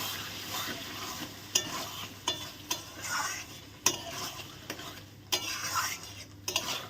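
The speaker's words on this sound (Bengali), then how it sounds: "টক দইটা ফেটিয়ে আমি এখন দিয়ে দেব চামচ দিয়ে একটু কাটিয়ে দিলাম এখন ভালো করে নেড়ে দেবো" Chicken curry with whisked yogurt is stirred in a pan, a soft sizzle under repeated scraping spoon strokes and crisp clinks against the metal, close and fairly quiet.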